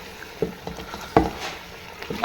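Sarson ka saag, a Punjabi mustard-greens dish, being stirred in a pan: soft scraping and wet shuffling strokes at an irregular pace, close and fairly quiet, with no voices.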